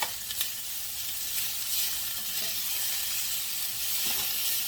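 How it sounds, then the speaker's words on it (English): Vegetables for steak fajitas sizzle loudly in a hot pan while being stirred, a constant close crackling hiss with a few faint scrapes of the utensil. "I'm just going to stir them around until they become a little translucent"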